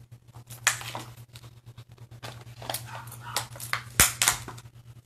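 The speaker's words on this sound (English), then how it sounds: "that's our dog barking in the back" A fussy dog barks and whimpers in the background of a home setting, with irregular, moderately faint yelps and huffs over a steady low hum.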